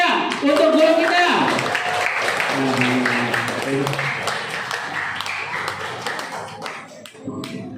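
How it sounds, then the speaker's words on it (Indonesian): A school orientation audience applauds a teacher invited to the stage, a dense burst of clapping that gradually thins and fades, with some voices mixed in. "Beri tepuk tangan yang meriah untuk guru kita."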